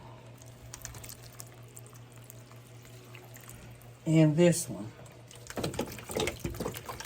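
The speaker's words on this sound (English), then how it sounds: "This one was really dry, so I gave it a thorough watering." Water is poured onto a dry potted Philodendron during a thorough watering, coming as splashy bursts in the second half after a brief spoken phrase, close and moderately loud.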